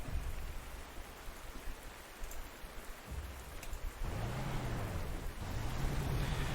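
Steady rain in the video game Panzer Corps 2 hisses across the whole stretch, broadband and continuous, with a low rumbling layer and a rising-falling tone in the second half.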